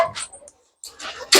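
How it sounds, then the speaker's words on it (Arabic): A dog barks close by in a few sharp, loud bursts, the second pair after a brief silence. "اطلع لي يا ابني الكلب ده"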